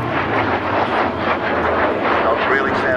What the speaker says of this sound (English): That is the famous blue note produced by the wind going over the top of the shell ejection chutes from the 20mm cannons just under the fuselage.